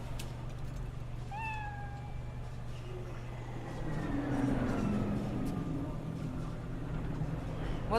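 A cat in the video game Cyberpunk 2077 gives a few short, rising meows early on, clear over a steady low hum of game ambience that thickens into a louder rumbling background later.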